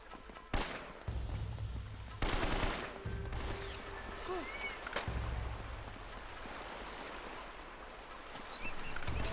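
Enemy gunfire in Uncharted: Drake's Fortune during a river section: sharp, loud shots burst out in a few separated bursts over a steady engine-like rumble and rushing water.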